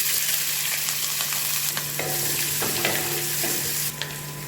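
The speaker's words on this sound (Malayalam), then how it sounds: "അപ്പോൾ അതിനകത്തേക്ക് നമുക്ക് സവാള ഇട്ട് കൊടുക്കാം." Sliced onions go into a hot pan of oil where fennel seeds are already frying. A steady, close sizzle runs throughout, broken by light scraping and stirring clatter.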